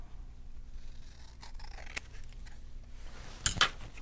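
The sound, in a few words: scissors trimming the edge of paper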